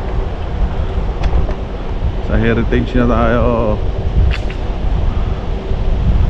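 Strong wind roars and buffets the microphone during a scooter ride in Canada from Heritage Ranch to Bower Ponds, a steady low rumble throughout, while someone speaks briefly over it.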